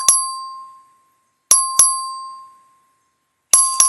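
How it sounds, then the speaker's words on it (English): A clerk's voting bell in a legislative chamber dings sharply several times, single and paired strikes with clear ringing decays between them, loud and close with no talk. "Clerk, ring the bell."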